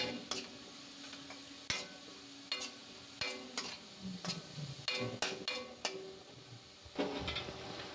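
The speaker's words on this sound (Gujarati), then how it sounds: "આ કાંદાને આપણે બે મિનિટ માટે સાતળી લઈશું" Chopped onions sauté in a pan for a bottle gourd and chickpea curry, a soft sizzle under repeated sharp clicks and taps of a spoon stirring against the pan.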